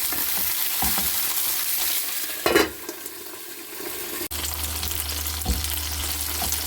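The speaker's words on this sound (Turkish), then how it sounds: "biberlerimizi kızartacağız" Peppers fry in hot oil in a pan, a loud, steady sizzle that goes on throughout, with a few stirring scrapes and knocks against the pan.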